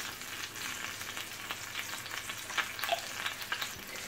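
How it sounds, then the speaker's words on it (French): Onion sautéing with ginger and saffron in a pan for a chicken and aubergine tajine sizzles steadily up close, with light stirring scrapes and small pops scattered throughout. "Faire revenir jusqu'à ce que l'oignon devienne translucide."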